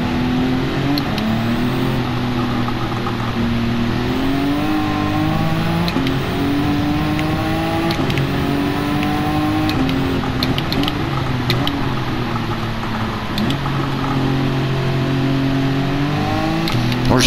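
Nissan GT-R GT500 1999 race car in Gran Turismo 7 on the Nordschleife, its engine loud and continuous, revving up and down through repeated gear changes with rising and falling pitch for the whole stretch.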